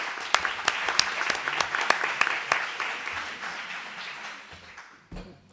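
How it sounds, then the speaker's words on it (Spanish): A conference audience claps warmly for a speaker. Dense, close applause with sharp individual claps standing out, tapering off before a brief noise at the end. "Recibámosla con un fuerte aplauso"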